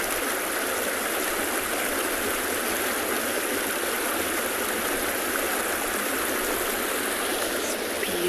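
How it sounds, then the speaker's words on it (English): Water rushes and churns continuously as a vehicle drives through the Timbavati River, a loud, steady broadband wash with no break across the whole stretch. "Everyone wants to drive through the water to say that they've driven through the Timbavati River."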